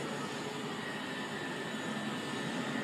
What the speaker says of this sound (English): there's helicopters all over around